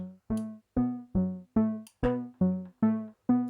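A Diva software synthesizer without microtuning plays nine short, plucky tones in a steady rhythm, each with a clean harmonic buzz, alone and fairly close.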